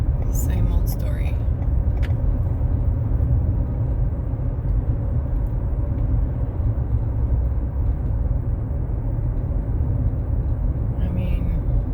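A car cruising along a highway, heard from inside as a steady, dense road and engine rumble that continues unbroken throughout, with a few faint ticks near the start.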